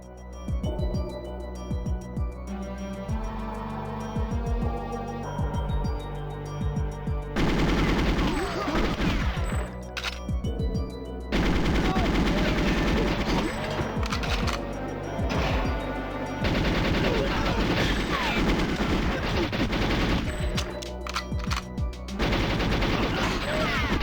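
Gunfire in GoldenEye 007 on N64, with bursts of rapid automatic shots and single cracks over game music and ambience, some impacts and crashes mixed in, loud and continuous throughout.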